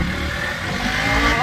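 A KTM Duke motorcycle engine revving hard as the front wheel lifts into a wheelie, a loud, close, sustained roar that builds slightly over a brief moment.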